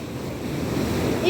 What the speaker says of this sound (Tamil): தண்ணி வருது ஃப்ரெண்ட்ஸ், காலில் நனைச்சி விட்டுருது.